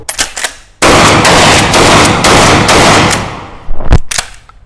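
A Huglu ATROX pump-action shotgun fired from the hip in rapid succession, giving a loud, dense burst of blasts lasting about three seconds, followed by a couple of separate sharp reports.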